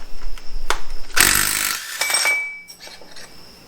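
A power tool, likely an impact wrench, breaks loose the crank bolt on a Chevy Nova engine in one loud, short burst around a second in, with metallic clinks and ringing tones fading after it.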